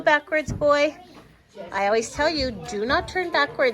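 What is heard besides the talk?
No distinct noise like a dog, phone or traffic.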